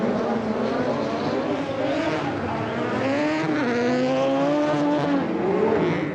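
Four-wheel-drive rallycross cars at a 1985 British Rallycross Grand Prix race past with loud, sustained engine howls that rise and fall through gear changes and overlap one another, steady and close throughout.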